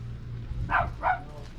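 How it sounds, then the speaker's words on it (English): Two sharp dog barks ring out at a campsite beside a 2022 Jayco Jay Flight camper, moderately close, over a steady low hum. "the dogs are barking"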